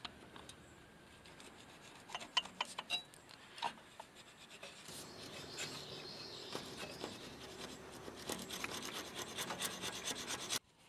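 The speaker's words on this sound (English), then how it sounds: "it's nice to have a proper gasket scraper, because a razor blade will want to curve on you and dig in" Quiet, close scraping as a gasket scraper cleans the mating surface of a Yanmar engine, starting with irregular short rasps and turning into a denser, continuous rubbing.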